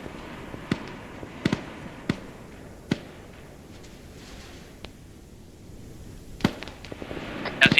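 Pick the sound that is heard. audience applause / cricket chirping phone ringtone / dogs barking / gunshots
gunshots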